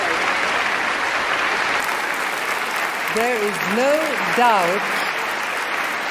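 Sustained clapping from the competitors for Eurovision 1986 winner Sandra Kim fills the hall, with a commentator talking over the applause partway through.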